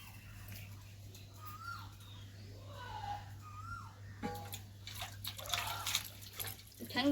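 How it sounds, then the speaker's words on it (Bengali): A raw country chicken is rinsed in clean water in a kitchen, with soft drips and splashes. Quiet sloshing builds toward louder, closer splashing at the end over a faint background hum. "তো এবার পরিষ্কার জল ধুয়ে নেব, পরিষ্কার জলে ধুয়ে নেব"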